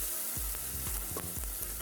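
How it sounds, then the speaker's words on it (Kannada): Garlic and curry leaves fry steadily in oil, a dense, close sizzle with rhythmic scraping strokes of a spoon repeating about every half second. "ಈಗ ಇವನ್ನೆಲ್ಲ ಒಂದು ಸ್ವಲ್ಪ ಚೆನ್ನಾಗಿ ಎಣ್ಣೆಯಲ್ಲಿ ಫ್ರೈ ಮಾಡೋಕ್ಕೆ ಬಿಡಿ"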